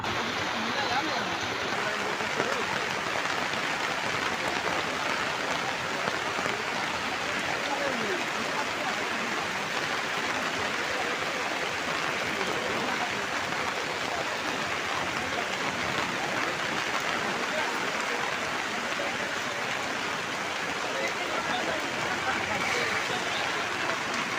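Steady, dense hiss of heavy rain falling continuously in Sirikonda, a broad even wash of sound with no breaks throughout.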